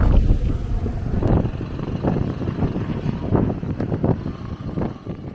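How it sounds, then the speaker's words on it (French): Strong seaside wind at Portbail-sur-Mer on the Cotentin coast, a steady loud buffeting roar with gusts rising and falling across the whole stretch, no voices. "Un vent de ouf."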